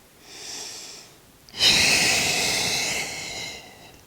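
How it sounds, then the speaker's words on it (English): A deep inhalation taken during a beginner Pilates workout at home, a faint breath first, then a loud, long, airy intake drawn close to the mic and held for a couple of seconds before fading. "Take a deep breath in here."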